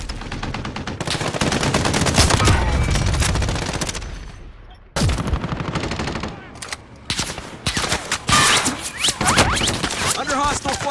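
Dense rapid gunfire from a video game, loud sustained bursts with a brief lull midway, then more shots and crackling impacts, with a voice speaking over part of it.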